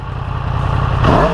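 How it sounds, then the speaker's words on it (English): Exhaust of a 2017 Yamaha FZ-10 motorcycle, idling loud and close before a quick rising rev near the end, no talking over it. "And here's the exhaust right here. Let's give it a little sound."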